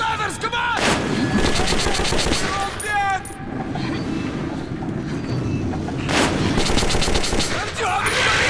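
Rapid gunfire and bursts of automatic fire in the video game Metro 2033, loud and close, in repeated volleys with short pauses, mixed with shouting voices and game noise.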